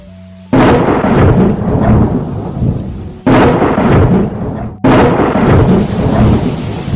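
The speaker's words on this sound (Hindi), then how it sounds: "हे भगवान, ये क्या बिन मौसम बारिश!" Three loud thunder cracks in a row, each rolling into a long rumble, with steady heavy rain hissing through it all.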